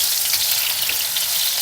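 Homemade burger patties fry in oil just after turning, giving a loud, dense, even sizzle with no voices.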